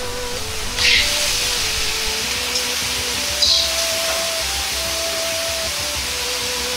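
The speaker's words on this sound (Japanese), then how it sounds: "紹興酒または酒を大さじ2分の1と醤油大さじ2を鍋肌から香りが出るようにして入れます。" Shaoxing wine and soy sauce poured down the sides of a hot pan sizzle into a steady hiss, with two brief louder bursts of spattering steam, under quiet background music.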